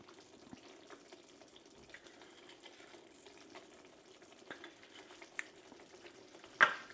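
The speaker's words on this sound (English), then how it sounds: "Give it a stir." Lasagna sauce simmering in a pan, a quiet, continuous bubbling and sizzle with scattered soft clicks from stirring and one sharper knock near the end.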